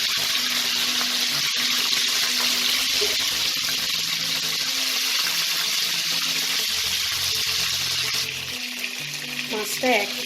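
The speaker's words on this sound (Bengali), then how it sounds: "সর্ষের তেলটা গরম হয়ে গেছে। এবার আমি একে একে মাছের পিসগুলোকে দিয়ে দেবো।" Pieces of Bhetki fish frying in hot mustard oil, a loud and steady sizzle that runs the whole way through, with a few faint clinks near the end.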